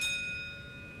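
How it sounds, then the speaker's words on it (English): Single bright bell chime from an auto oil change service ad, struck once at the start and left to ring out with a long, slowly fading sustain over a soft low background. "When you hear the bell,"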